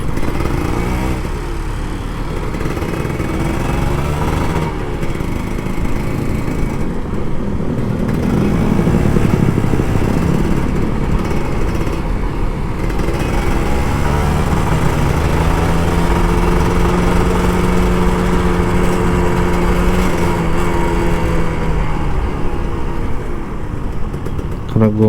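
A Kawasaki Ninja RR 150, an older two-stroke model, is ridden home from the office in traffic, its engine buzzing loud and close throughout, pitch rising and falling with throttle changes and gear shifts, under wind noise.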